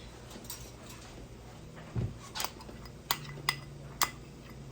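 A spoon scrapes orange rind out of a bowl while relish is prepared, making a few sharp clinks and scrapes spread through a quiet, close kitchen.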